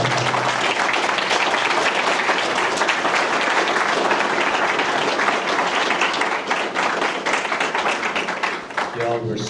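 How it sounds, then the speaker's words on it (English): An audience at a mayoral and city council candidate forum claps in sustained, dense applause that fades slightly toward the end, with voices mixed in. "Let's give them a round of applause."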